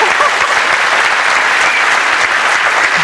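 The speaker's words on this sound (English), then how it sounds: "Give her a big round of applause." Loud, dense studio audience applause on a 1991 game show, a thick continuous roar of clapping close up and unbroken for three seconds.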